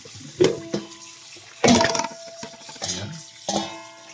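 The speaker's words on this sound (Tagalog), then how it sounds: "Unang gagawin, siyempre, linisan, hugasan na maigi." Yellowfin tuna steak being washed under running water, with several bursts of splashing and gushing water separated by brief quieter gaps, close and fairly loud, no talk.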